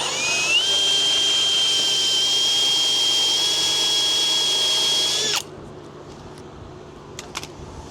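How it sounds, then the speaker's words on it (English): A loud power drill whines steadily at high pitch for about five seconds drilling holes into steel on a Ford Ranger Raptor, then cuts off, leaving quiet room noise with a few faint clicks. "So drilling these 4 holes, these are going into steel, super easy."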